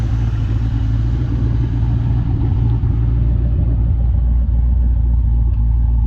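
A 1987 Mustang GT convertible engine rumbles loudly at close range, its deep, lumpy idle easing down and settling as the higher engine noise fades toward the end.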